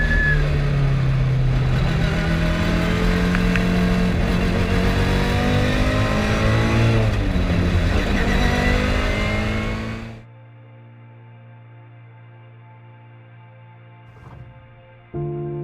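A replica car engine, built with many original parts, revs hard and loud for about ten seconds with rising and falling pitch, then cuts to a low steady idle with a brief blip near the end.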